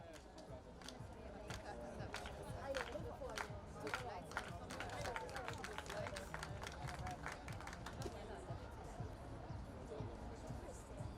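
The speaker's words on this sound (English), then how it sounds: "Let's clap for her." Spectators at the EAP Malta International 2023 athletics meet clap in a quick, rhythmic beat for a female jumper's final attempt, with crowd murmur and an announcer's voice running underneath.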